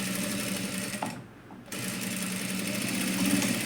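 A sewing machine stitching a four-tuck blouse runs with a loud, steady close-up whir, stops briefly for about half a second, then starts again and keeps running.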